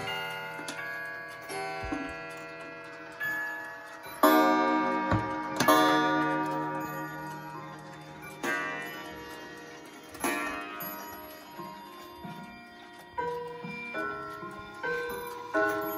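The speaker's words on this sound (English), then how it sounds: "There's all the clocks going off." Many clocks in a collection chime together, with layered bell-like strikes and rods ringing out in overlapping rhythms at irregular intervals and fading tails between hits, loud and close with no talking.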